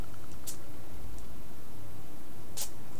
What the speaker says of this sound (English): Now I'm going to give it a spray